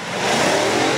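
A big V8 petrol engine in a Nissan Patrol with 560 newton metres of torque revs hard and loud, a rising roar sustained through the brief moment with no voices.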